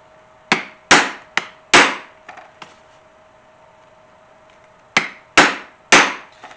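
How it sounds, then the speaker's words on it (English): Hammer striking a punch through leather straps for a shoulder rig, heard as sharp, loud, close impacts in two bursts of four and three, with a couple of lighter taps between them and no talking. "So let's go ahead, punch our holes"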